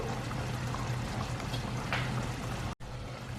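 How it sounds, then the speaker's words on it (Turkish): Starchy water from cooked spaghetti pours into a red wine and mustard meat sauce as a steady, soft stream, with a brief break near the end. "çok az makarnamızın nişastalı suyundan sosumuza ekliyoruz"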